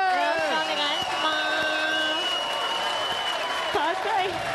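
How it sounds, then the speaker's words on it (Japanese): Audience applause for a game designer's stage entrance at Tokyo Game Show 2013, a dense steady clapping crowd under music and tonal effects, with a voice over the top. "拍手。"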